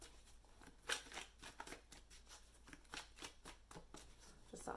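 Tarot cards are shuffled by hand in quick, repeated riffling and sliding bursts, close and soft, over a faint steady hum, with no talk.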